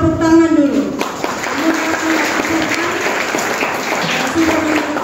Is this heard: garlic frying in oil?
no